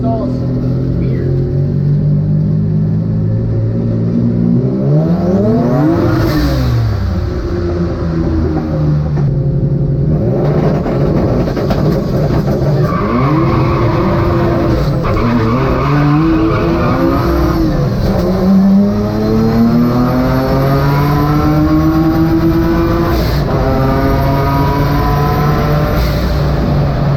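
A twin-engine drag race car roars loud and close through repeated revving surges, engine pitch climbing and dropping in sweeping waves over a sustained, continuous rumble.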